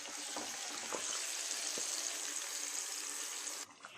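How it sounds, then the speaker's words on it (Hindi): Marinated chicken dropped into half a cup of hot oil in a pan gives a loud, steady broad sizzle that holds for several seconds, then cuts off abruptly near the end. "तेल गरम हो चुका है, इसमें मैरिनेट किया हुआ चिकन डाल दें।"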